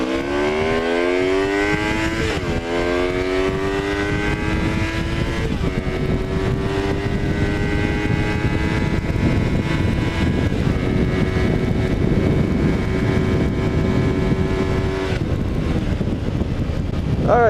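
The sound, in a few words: motorcycle accelerating in first gear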